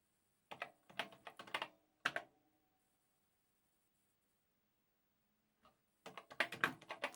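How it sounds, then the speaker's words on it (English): Rapid clacking keystrokes on a Commodore PET computer keyboard come in close bursts, a quick run, a pause, a single tap, then another busy flurry of keys. "but I'll just keep typing"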